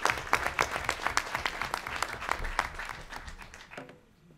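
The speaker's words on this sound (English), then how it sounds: "Let's give ClassGuard one more round of applause." An audience applauds a student startup team called ClassGuard at a pitch finale, a steady run of overlapping claps across the room that fades out near the end, with no talking over it.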